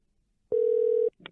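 A telephone dial tone sounds while a call is being placed: a single loud, steady tone held for about half a second, then cut off, followed by a brief clicking noise.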